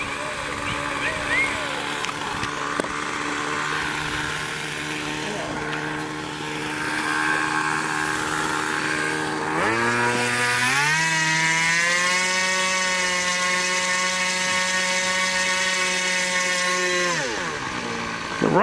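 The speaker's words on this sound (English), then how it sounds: "he just barely touches the starter, and his plane runs." A small propeller plane engine runs steadily at an airfield, then climbs sharply in pitch as it revs up and holds a loud, even drone before dropping off near the end, with a voice speaking over it.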